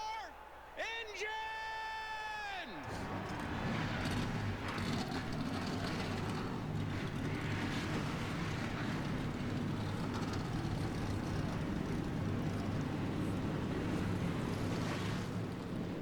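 Many stock cars on the Daytona grid in the NR2003 racing sim roar to life and rumble together in a dense, steady engine drone, preceded by a brief tonal fanfare.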